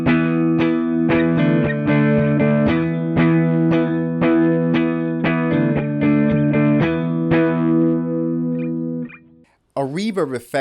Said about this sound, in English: A reverb effect creates more of an ambiance, and it's an echo.